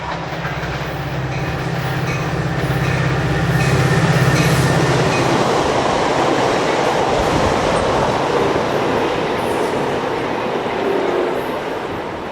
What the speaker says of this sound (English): Between stations, the train comes around the curve and heads toward the east end of Livermore siding.